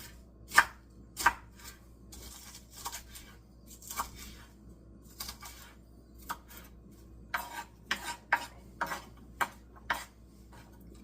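Sharp knife strokes on a cutting board as onions and garlic are chopped for a Cornish hen dish, a scatter of distinct close taps in an uneven rhythm over a quiet kitchen background.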